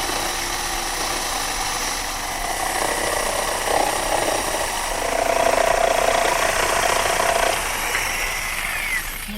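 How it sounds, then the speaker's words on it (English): Drill press driving a 3/4 inch Forstner bit into wood, a continuous rough grinding hum with a gritty low rumble that swells in the middle and stays loud and close throughout. "Now I've switched to a 3/4 inch Forstner bit that I'm using to rough out a couple square holes"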